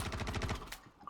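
Rapid automatic gunfire in the space game Star Citizen, a tight burst of evenly spaced shots up close that cuts off after about half a second.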